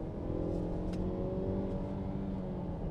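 A 2021 Mazda CX-9 crossover with its automatic gearbox in sport mode accelerates through the gears, a steady, sustained engine drone heard from inside the cabin with brief shift blips and no voices.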